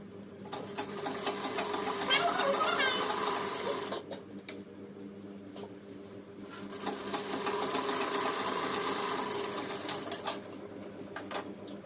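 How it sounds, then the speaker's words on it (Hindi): An electric sewing machine stitches the side seams of a salwar pocket in two long whirring runs with a short pause between them. A voice speaks over the mechanical hum. "इसी तरह से हम दूसरी साइड पे भी सिलाई लगा लेंगे।"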